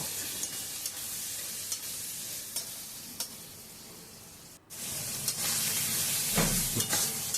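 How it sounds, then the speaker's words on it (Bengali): Prawns and dried fish sizzle in a hot pan with a steady frying hiss, broken by light stirring scrapes and a brief pause before the sizzle returns louder. "চিংড়ি মাছগুলো দেওয়ার পর একটু কষিয়েই নামিয়ে নেব"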